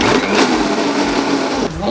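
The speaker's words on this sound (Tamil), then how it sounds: "இப்போ மறுபடியும் அரைக்கலாம்." A kitchen mixer grinder churns a thick batter of soaked rice with a little added water, a loud, close, unbroken grinding whir that dips briefly near the end.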